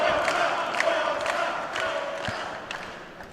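A crowd at a live pro wrestling show roars and cheers in a sustained wash of voices, with scattered shouts over the top.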